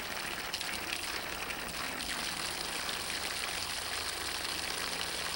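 Water flowing steadily in a stream around an egg hanging on a string, a continuous broadband rush and trickle, close and loud without any pauses and no voices.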